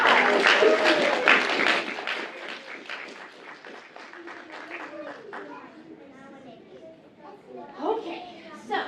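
An audience at a children's theatre show applauds loudly with clapping and children's voices, the applause gradually fading into crowd chatter and scattered kids' calls, with a brief swell near the end.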